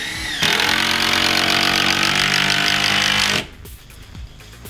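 A power drill drives a screw into wood with a loud, steady whirring buzz for about three seconds, then cuts off abruptly into quieter room noise with a few small knocks.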